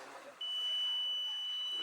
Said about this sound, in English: So we will do a quick buzzer check with team 1.